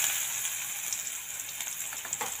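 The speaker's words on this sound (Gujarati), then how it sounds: "તો આપણે ડુંગળીને ધીમા તાપ ઉપર તળવા દઈશું।" Chopped onions frying slowly on low heat in a pan after mustard seeds, cumin and asafoetida, giving a steady soft sizzle with faint crackles throughout, no voices.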